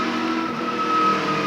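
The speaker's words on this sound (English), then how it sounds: "Every time you get on the accelerator, you can hear the gears whining like that." High, steady gear whine from a NASCAR Winston Cup car's road-racing transmission at Daytona under acceleration, a sustained tonal whine over engine and road noise heard from onboard.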